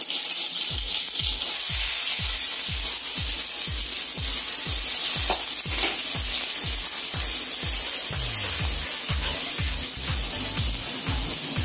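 Onions and mustard seeds fry in hot oil, a constant bright sizzle over a rapid, regular run of low scraping or tapping strokes that continues throughout.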